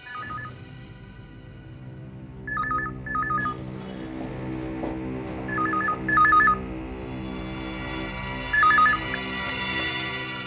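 Telephone keypad tones beep in several short clusters of DTMF dialing over a steady background hum, with no talking.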